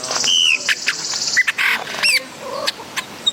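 Birds near a banana tree with ripe fruit: sharp chirps, squawks and clucking calls scattered across a few seconds, close and fairly loud, with short gaps between.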